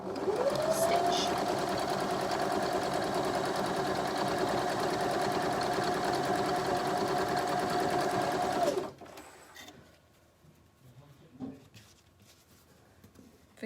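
Sewing machine stitching quilt block pieces for a card trick quilt, running in one steady, loud whirring burst for about nine seconds before stopping, followed by faint handling noises.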